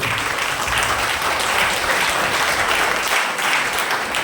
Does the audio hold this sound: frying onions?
no